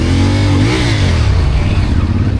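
A CFMoto CF450MT motorcycle engine accelerates loudly and close by, its revs rising and dipping slightly before settling into a steady hard drone, with no speech over it.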